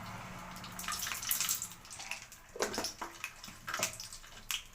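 Mustard seeds splutter and sizzle in hot oil in a pan, a soft crackle of pops while cooking gongura tomato pickle, heard close with no talking.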